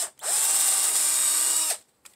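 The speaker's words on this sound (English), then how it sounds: "I'm going to use a 3/32 to drive the pilot for the positioning screw." A power drill bores a 3/32 pilot hole for a positioning screw through a metal door lock guide, one loud, steady high whine lasting about a second and a half, then spinning down.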